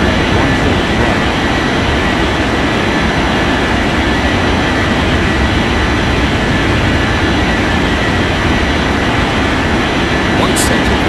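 A Martin Air airliner taking off from runway 14 right in an air traffic control game: a loud, unbroken jet-engine roar with heavy low rumble that holds steady for the whole stretch.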